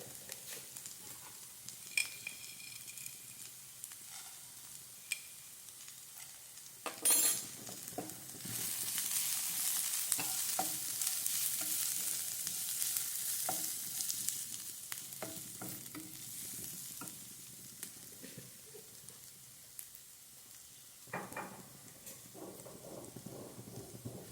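Roasted gram being stirred into a frying pan with wilted ingredients, a steady close sizzle with scattered scrapes and clinks of a utensil against the pan, no talk.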